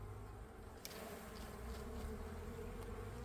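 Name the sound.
honey bees buzzing at a hive entrance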